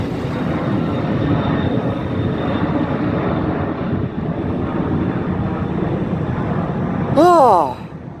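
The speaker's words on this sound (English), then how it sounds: "That was a beautiful takeoff" An Icelandair Boeing 757-200 airliner takes off at Luleå with a loud, broad jet roar that rumbles steadily and then thins slightly, and a brief excited voice cuts in near the end.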